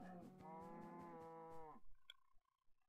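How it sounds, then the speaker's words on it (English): A Minecraft cow in a breeding pen lets out one long, loud synthetic moo lasting nearly two seconds, followed by a few faint clicks and small game noises. "over here we have the cow breeding array"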